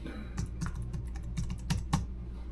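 A computer keyboard is typed on briefly and close by during a login on a Cerbo GX setup over WiFi, a short run of light key clicks with no talk.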